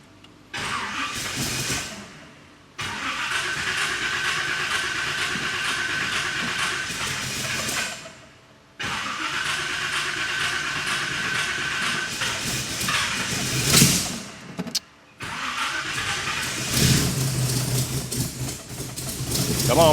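A rebuilt big block V8 cranks and fires during camshaft break-in, then idles and revs loudly and roughly, with brief cuts between runs and a voice speaking now and then.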